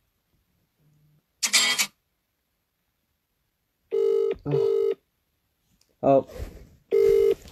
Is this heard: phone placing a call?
yes